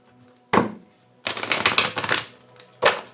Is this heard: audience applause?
no